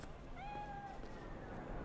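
A cat in the video game Cyberpunk 2077 gives a single drawn-out meow, faint under a steady bed of game background noise.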